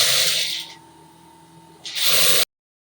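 A sewing machine set to its longest stitch for gathering runs in a loud, close whirring burst, drops to a quieter hum, then revs up again before stopping abruptly.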